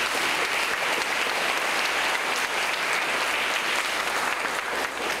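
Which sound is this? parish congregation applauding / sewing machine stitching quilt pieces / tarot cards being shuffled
parish congregation applauding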